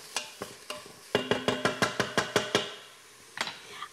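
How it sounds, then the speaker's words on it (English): Quick stirring of freshly chopped garlic into kabocha squash soup in a pot: a run of sharp, evenly spaced utensil clacks and scrapes against the pot, close up, with a few scattered taps before and after and no voices. "add the fresh garlic that we chopped up. That's the last thing here, and just give it a nice quick stir."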